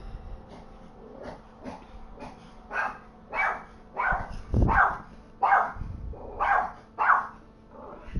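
A dog barks in a series of short, repeated calls a short distance off, indoors, with a few quieter yips leading into louder, evenly spaced barks.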